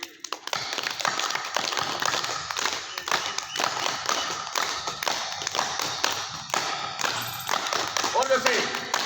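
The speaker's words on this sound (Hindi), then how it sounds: "अभी हम बजाएंगे ताली, जोर से ताली बजाइए।" A group at an outdoor yoga camp in Niwaru, Jaipur claps hands loudly in quick, uneven bursts that run throughout, with a voice talking over the clapping.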